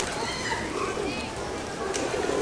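Pigeons cooing in Old San Juan, soft repeated coos scattered through busy outdoor ambience while people talk nearby.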